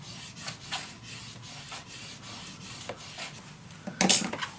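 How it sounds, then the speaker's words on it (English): Paper being burnished down on a steampunk Christmas mini album, soft repeated rubbing strokes close up in a rhythmic back-and-forth, ending with a brief louder scrape. "Burnish it down."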